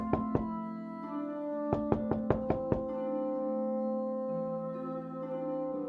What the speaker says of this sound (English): Okay, well, knock then.